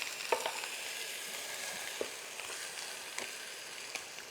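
Meatballs and pig's feet fry in a pot for a Christmas ragout, giving a steady, soft sizzle with a few light clicks and knocks scattered through.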